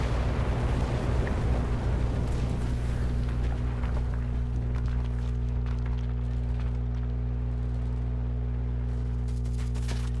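Bombs exploding in the Enlisted video game, a continuous heavy rumbling roar with a steady low drone and scattered crackling bursts, loud and unbroken throughout, with no talk.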